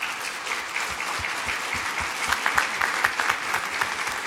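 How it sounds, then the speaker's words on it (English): Audience applause at a technology summit in Grand Bahama, a steady wash of many hands clapping for the presenters at the end of the first day, fairly loud and continuous with a few sharper claps standing out. "Please give a round of applause to all of our presenters."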